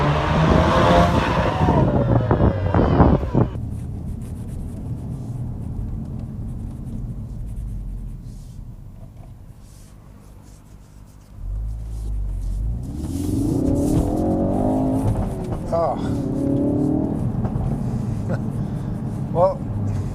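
A Mk3 Ford Focus RS drifting: loud engine roar and tyre squeal at first, dropping to a low rumbling idle, then the engine revs up again with renewed squealing tyres, close and dominant.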